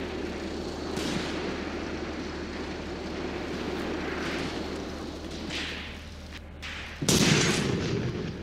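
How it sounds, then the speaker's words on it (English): Incoming artillery fire in the World War II tactics game Graviteam Tactics: Mius Front, a steady low rumble of battle with a few muffled distant booms and one sharp, louder blast near the end. "they're throwing some artillery at us too"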